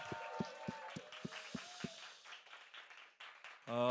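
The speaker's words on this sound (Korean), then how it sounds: "다시 한번 하나님께 박수와 환호성 하나님께 올려드립시다" A church congregation at a Thursday worship service claps in a steady, even rhythm of about eight quick claps that then trail off, fairly faint and without clear cheering.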